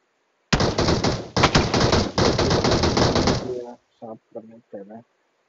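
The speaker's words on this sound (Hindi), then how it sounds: "सामने से फायर हुआ है" Rapid automatic gunfire rattles loudly in the mobile battle royale game BGMI, a long dense burst with brief pauses, followed by a few short fainter sounds.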